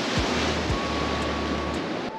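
Rough ocean waves crash and splash against a rocky jetty at Oceanside, California, a loud, continuous wash of surf with wind buffeting the microphone and low thumps as water hits the rocks, no talking.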